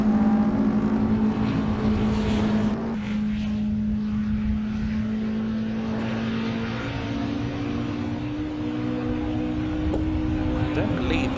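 Peugeot 106 hot hatch race car underway at Mallory Park during a Quick60 Challenge, its engine droning loud and steady with a commentator talking over it.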